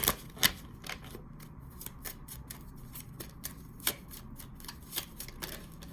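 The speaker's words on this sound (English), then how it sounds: "let's pull here a card from the Hidden Truth Oracle deck" An oracle card deck is shuffled by hand, close and crisp, with quick riffling bursts and sharper card snaps spaced through a quiet room.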